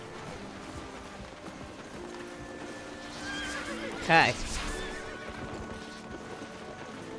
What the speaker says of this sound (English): I got a donkey.